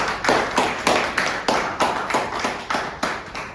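Evenly spaced claps, roughly five per second, ring out in a speech contest meeting room as an audience applauds an incoming speaker; the rhythmic beat is sparse enough to suggest only a few hands, with no talk over it.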